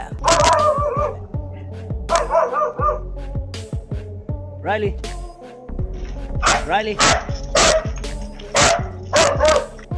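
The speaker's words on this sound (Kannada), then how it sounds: "ಆತನ ನಾಯಿ ವಿಚಿತ್ರವಾಗಿ ವರ್ತಿಸಲು ಶುರು ಮಾಡುತ್ತೆ" A pet dog in a forest barks repeatedly in sharp loud bursts, with yips and whimpers between them, close to the microphone, and no voices alongside.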